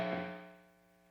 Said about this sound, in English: so you hear the reverb